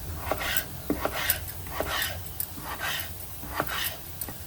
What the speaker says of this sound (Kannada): ಆಲೂಗಡ್ಡೆ ಹೆಚ್ಕೊತಾ ಇದ್ದೀನಿ